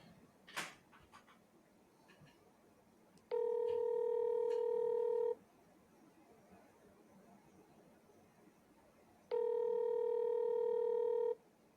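A phone line rings out during an unanswered call, two long steady electronic tones a few seconds apart, clear and close, with quiet background between them and no talking.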